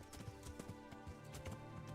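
Rapid, steady clip-clop of horse hooves trotting, close and rhythmic, over a low rumbling background in the video game Kingdom Come: Deliverance.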